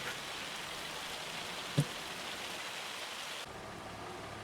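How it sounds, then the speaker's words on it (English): Steady rain falling in a calm countryside setting, an even broadband hiss throughout with a single brief knock partway through and a slight drop in level near the end. "Still raining."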